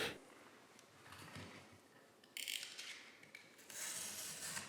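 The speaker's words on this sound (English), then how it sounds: "I'm cutting perpendicular to the grain of the cardboard" Corrugated cardboard being cut across its grain gives dry rasping, scraping strokes up close, quieter at first, then louder, harsher bursts in the second half.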